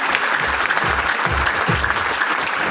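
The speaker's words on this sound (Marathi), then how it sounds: "तर एकदा स्वतःसाठी जोरदार टाळ्या झाले पाहिजे मित्रांनो." Loud, sustained applause from an audience filling a hall at a gathering in Nanded, steady clapping throughout with no voices over it.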